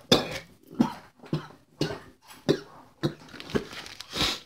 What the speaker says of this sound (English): Man, I got this really bad cough